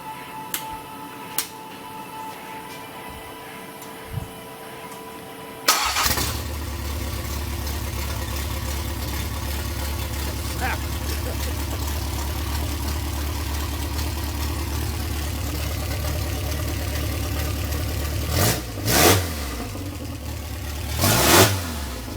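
A Triumph TR4A engine cranks and catches on its first start, then settles into a steady rumbling idle, with a couple of short revs near the end.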